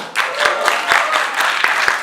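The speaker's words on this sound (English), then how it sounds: "Round of applause for Jasmine." A short burst of clapping from a workshop audience, steady and moderately loud, with scattered individual claps standing out.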